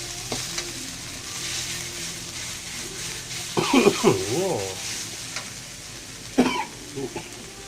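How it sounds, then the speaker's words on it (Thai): Thai curry paste, loosened with a little oil, is stir-fried over low heat for a mushroom and chicken curry, sizzling steadily with spatula scrapes, interrupted by a short vocal sound like a throat clearing. "ผัดพริกแกงไปเลยฮะไฟอ่อนนะครับ"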